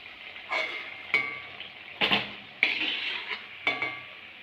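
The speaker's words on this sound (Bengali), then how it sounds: "এগুলো আমি একইভাবে ভেজে নেব" Spatula clinks and scrapes against a frying pan while palm (tal) seem pitha fry in a little oil, five sharp metallic knocks spaced across a steady faint hiss, close by.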